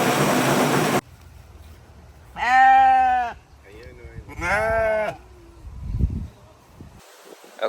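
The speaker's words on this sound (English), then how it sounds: "those sheep sound just like humans trying to sound like sheep" Sheep bleat outdoors in the Netherlands, with two long, wavering, voice-like bleats a second apart standing out over a quiet background of soft rustling and faint low noise.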